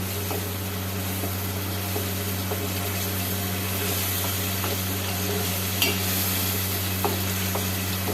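Spices fry and get stirred in a pan for spicy Telangana style chicken fry, a steady sizzle with a constant hum beneath and occasional light scraping of the spoon.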